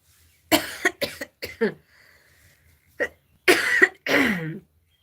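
A person coughs repeatedly, close and fairly loud, in several short clustered bursts separated by quiet pauses.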